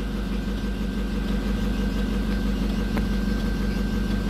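A motorboat engine idles steadily as the boat arrives, a low, even mechanical chugging with slight vibration, moderately close and without talk.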